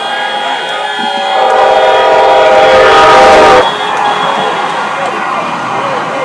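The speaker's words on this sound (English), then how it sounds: "the train went by" Train rolling past a road crossing near the intersection of 30th and Peoria in Colorado, a steady loud rumble with a sustained horn blast swelling in the middle, then fading back to traffic noise.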